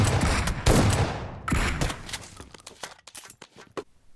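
Shotgun gunfire in the mobile battle royale game PUBG Mobile: a few loud, close blasts in the first two seconds, then quieter scattered clicks and distant reports trailing off, with no talking.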